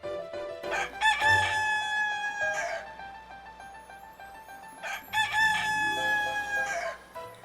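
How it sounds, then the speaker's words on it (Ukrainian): Roosters crow repeatedly, loud and close, with long drawn-out calls overlapping against a busy farmyard background. "тут півники співають"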